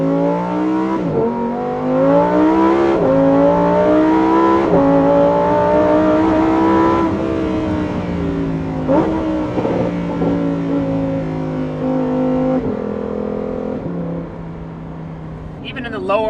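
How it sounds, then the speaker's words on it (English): Lamborghini R8, Gallardo or Huracán-type sports car with Valvetronic Designs exhaust valves fully open, in Trofeo mode, revving hard with loud, bassy, rising and falling engine tones that sweep up and down through repeated throttle blips over sixteen seconds. "you get a nice bassy exhaust frequency, which is very enjoyable."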